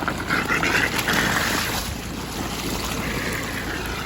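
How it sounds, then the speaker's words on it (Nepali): Water gushes from a pipe in a loud, steady rushing hiss that swells slightly at first and then holds constant, with no speech. "ल फाइनली पानी आइसकेको छ।"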